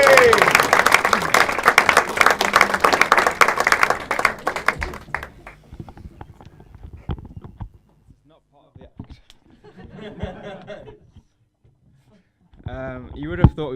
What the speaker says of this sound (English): So stamp your feet, clap your hands, go mild and mental for Mr. Andrew Tubman.